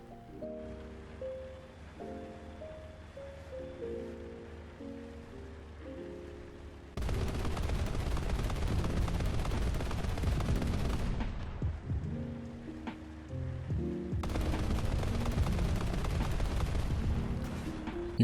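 Aircraft guns firing in the video game War Thunder, two long bursts of dense rapid gunfire that start abruptly and stop sharply, following a quiet stretch of musical tones.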